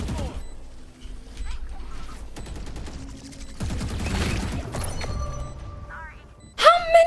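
Gunfire in a shooter video game: bursts of rapid shots and impact cracks come and go between quieter stretches, with a player talking throughout.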